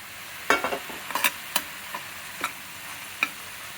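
Chopped tomatoes cook in a pan, a soft, low sizzle punctuated by a few sharp spoon knocks and scrapes, clustered early and then spaced out, with no talking.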